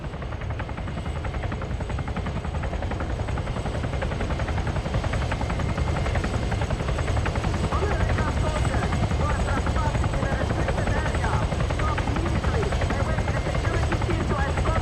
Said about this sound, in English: There's a helo.